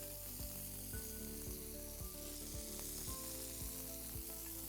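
Chicken pieces for butter chicken browning in a hot pan, a steady close sizzle and fry with soft periodic stirring scrapes roughly every half second, no voices.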